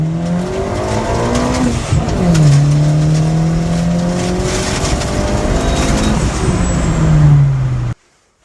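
Turbocharged car engine on a hard acceleration pull, loud and close, rising through the revs with gear shifts, on a run where its oil feed line burst and smoke followed; it cuts off abruptly at the end.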